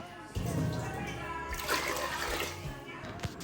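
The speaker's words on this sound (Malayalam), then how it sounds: "മൂന്ന് ഗ്ലാസ് വെള്ളം ദേ ഞാൻ ആദ്യം തന്നെ ഒഴിക്കുകയാണ്" Three glasses of water pour steadily into a pressure cooker for prawn biryani, a continuous splashing rush with small clinks, and a voice speaks over it.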